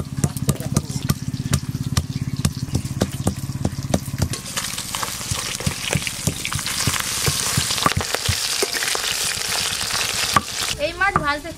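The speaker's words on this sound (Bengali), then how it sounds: "এই মাছ ভাজতে খুব বেশি সময় লাগে না, তাড়াতাড়ি ভাজা হয়ে যাবে" Boal fish frying in hot oil, a dense steady sizzle with stirring clatter that grows brighter and louder partway through, with brief voices near the end.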